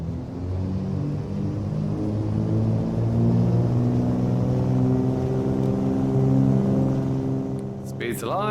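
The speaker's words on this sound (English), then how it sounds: "Listen to these engines." In Microsoft Flight Simulator, the twin engines of a Milviz Cessna C310R drone through a rolling takeoff, their layered tones climbing gradually in pitch and loudness before a sharp chirp near the end.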